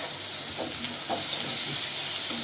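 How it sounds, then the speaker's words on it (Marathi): Onion and sliced tomatoes sautéing in a pan, a steady close sizzle and hiss with a few soft stirring scrapes, continuous throughout. "आता हे पण आपल्याला परतून घ्यायचं आहे"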